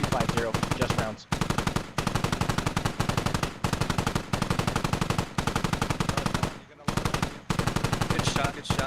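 Rapid automatic machine gun fire in the military shooter game Squad, loud and near, coming in long sustained bursts with only brief pauses between them.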